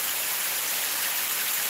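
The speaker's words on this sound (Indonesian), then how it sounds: "Kita lihat air terjun alami" Rushing water of a small natural waterfall in a stream during afternoon rain, a constant close, loud hiss with no breaks and no voices.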